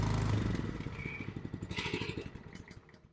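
The small engine of a Chapman PC Series paddock cleaner runs with a rapid, rhythmic putter that pulses evenly, near at first and then gradually fading quieter over a few seconds.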